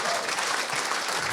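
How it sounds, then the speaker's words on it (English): An audience claps and cheers in dense, steady applause, loud and close throughout, with no pauses and no clear speech. "It's our first round of applause"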